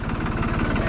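A New Holland 3630 tractor engine idling steadily, a close, loud, even low rumble with a regular throb throughout, no voices over it.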